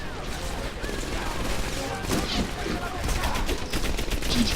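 Bursts of rapid gunfire in the video game Medal of Honor Airborne crackle through a busy background, several volleys spread across the clip, with faint voices underneath.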